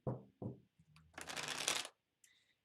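Tarot cards are handled in two quick flicks, then a short pause and a dense riffling shuffle of about a second, ending with a light card tap, close and crisp in a quiet room.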